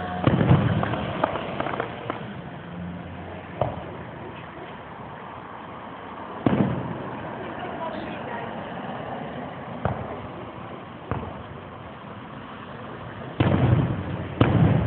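Several loud bangs of Fourth of July fireworks outdoors in New York, scattered irregularly with quiet rumbling gaps between, and a final cluster of pops near the end.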